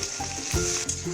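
Potatoes fry in mustard oil in a wok, a loud, close sizzle with bursts of stirring and scraping and a sharp surge midway.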